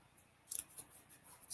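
Scissors cut out a piece of paper in a series of quiet, crisp snips close by, with no talking.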